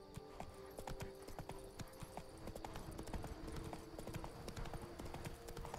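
Roach the horse galloping in the video game The Witcher 3: Wild Hunt, a fast, steady clip-clop of hooves with a faint snort, up close and alone.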